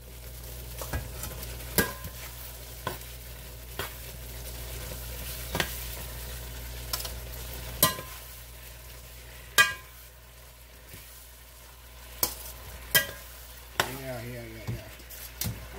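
Shrimp, mushrooms and tortellini stirred and frying in a skillet, with a steady low sizzle and irregular utensil scrapes and knocks against the pan, close and moderately loud.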